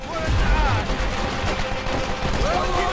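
Rapid bursts of gunfire in the WWII shooter Call of Duty: World at War, played in co-op, crack loudly and continuously in an ongoing firefight while a voice talks over the shooting.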